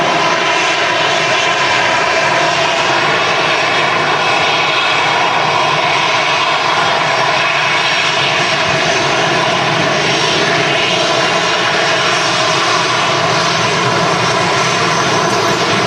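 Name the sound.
EasyJet Airbus A320-200 aircraft arriving at Manchester Airport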